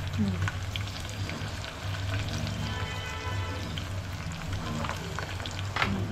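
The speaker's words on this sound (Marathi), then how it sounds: "एक कांदा आहे, एक मोठा कांदा आणि 5 मिरच्या कापून टाकल्या त्याच्यात." Chopped onion and green chillies fry in a pan with a steady, moderate sizzle, with faint stirring scrapes throughout and a brief clink near the end.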